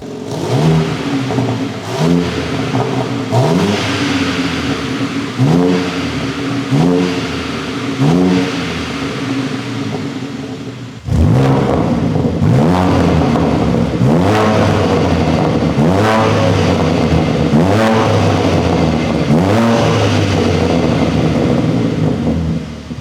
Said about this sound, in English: The standard versus Remus exhaust.